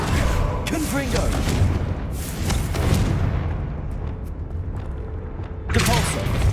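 A fire-explosion spell in a video game lands as deep rolling booms and rumbling blasts, loud and dense, with bursts near the start, middle and end amid continuous low game noise.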